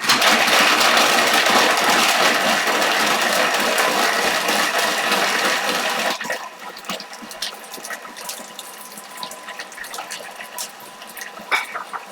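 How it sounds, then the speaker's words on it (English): A Thermomix blending juice on a 30-second blend, a loud steady whirring spin that stops partway through, leaving quieter clattering and tapping sounds of kitchen cleanup. "Now it's got a 30-second blend, so we'll spin that up"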